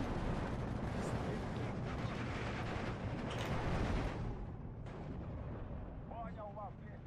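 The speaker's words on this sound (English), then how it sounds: "We should probably use our mortar" Mortar and artillery fire in the WWII strategy game Steel Division 2, a dense, continuous barrage of booms and rumbling blasts that eases toward the end, with voices talking over it.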